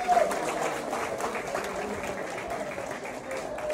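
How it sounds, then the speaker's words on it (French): A crowd applauds with dense, steady clapping that fills the whole moment, mixed with a hubbub of audience noise. "Donc ce soir, sous vos applaudissements."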